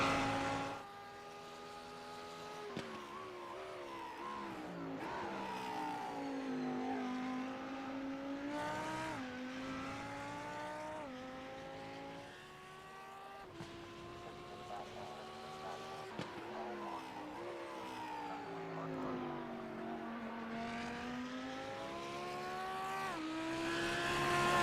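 Lamborghini race cars in a racing video game at the Hungaroring circuit, their engines screaming loudly and steadily as they accelerate, with pitch rising and dropping through gear shifts, continuous and close.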